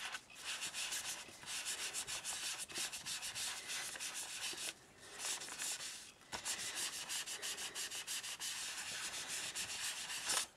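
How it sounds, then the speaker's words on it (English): A sponge rubbed steadily onto a black paper envelope to spread metallic paint, producing continuous close scratchy scrubbing strokes with a few short pauses, no talking. "just rub it on the black envelope"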